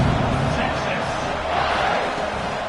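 A stadium crowd in a Madden football video game keeps up a steady, distant roar and murmur, with play-by-play commentary talking over it throughout.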